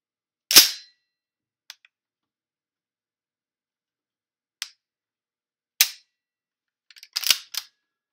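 Sharp metallic clicks and snaps as a Beretta Statesman 12-gauge semi-automatic shotgun barrel locks into place, a few spaced apart then a quick cluster at the end, close up with no talking.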